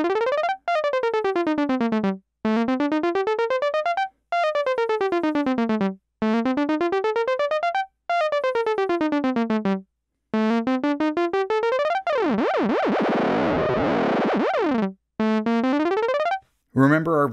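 A Moog Mother-32 synthesizer sequencer plays random steps as loud, buzzy pitched tones. It sweeps in repeating rising and falling runs with short gaps between phrases, then a noisier, smeared passage near the end, with no one talking.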